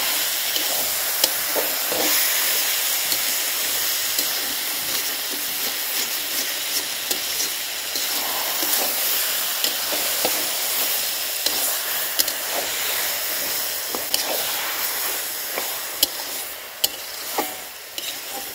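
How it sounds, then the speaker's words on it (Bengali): Taro stalks stirred in a frying pan, a steady sizzling hiss with frequent scraping taps of the spatula running throughout, close and fairly loud with no voices. "দেখুন ডাঁটাটা দিয়ে নেড়ে নিচ্ছি ভালো করে।"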